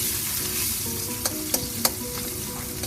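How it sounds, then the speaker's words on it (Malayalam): Dried red chilies and garlic frying in oil for a beef pickle, giving a steady close sizzle and a few crisp spoon taps on the pan near the end. "നമുക്ക് വറ്റൽമുളക് ചേർത്ത് കൊടുക്കാം. വെളുത്തുള്ളി ചേർക്കാം."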